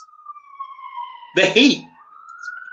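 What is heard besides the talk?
sirens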